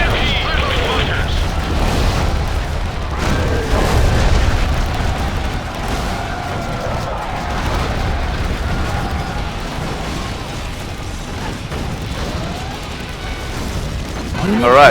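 Booming artillery fire and explosions rumble continuously through a Command & Conquer: Generals battle during an amphibious assault, dense and low, with a radio-style voice talking over the din.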